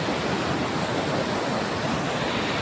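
A hill-country river flowing beneath a footbridge made of wooden planks and bamboo poles, a steady, dense rush of water that stays constant throughout with no voices.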